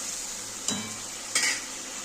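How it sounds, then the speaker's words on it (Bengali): Fish curry masala stirred and fried in a pan, a steady soft sizzle with two brief scraping stirs standing out over it, close and fairly quiet. "এবার আবার ভালো করে কষিয়ে নিই"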